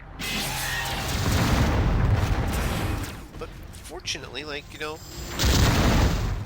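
Rapid Vulcan cannon fire in the video game Descent 2, heavy booming bursts that fill the first half, drop back, then surge again near the end, with someone talking over the shooting.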